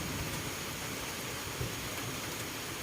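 Steady rain falls on a lychee orchard during a search for wild termite mushrooms, a dense, even hiss that holds constant throughout with no voices.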